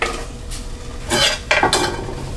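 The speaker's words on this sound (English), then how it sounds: "So let's saute these." Vegetables being sautéed in a pan on a wood-burning stove, dominated by a few loud scrapes and clanks of a utensil against the pan with a faint sizzle underneath, close by.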